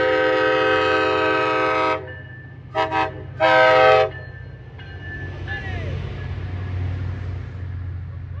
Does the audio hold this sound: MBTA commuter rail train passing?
yes